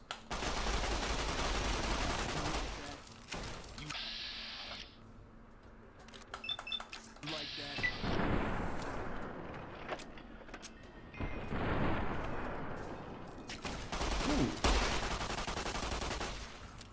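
A 9mm machine gun fires in Fallout New Vegas, loud bursts of rapid shots that come in clustered volleys with short pauses between them, mixed with clattering game effects and no voices.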